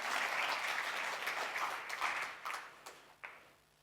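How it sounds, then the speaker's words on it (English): Corporate audience applause at a jewellery company event: dense clapping that thins out and fades, ending with a few scattered late claps. "I think that deserves a big round of applause."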